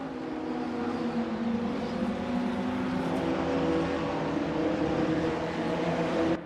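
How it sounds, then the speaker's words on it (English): Race car engines at Bathurst in the RaceRoom racing game, mid-engine cars droning and revving together in a loud, steady pack roar that holds for several seconds before cutting off, with no talk. "Just let you enjoy the sounds of the cars here for a little bit."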